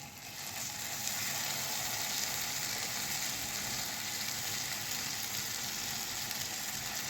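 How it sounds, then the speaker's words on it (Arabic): Chicken pieces for shawarma frying in butter, a constant, moderately quiet sizzle and hiss sustained close by from start to finish. "هنحط بقى ايه الفراخ شوية شوية عشان لسه الزبدة ما عملتش"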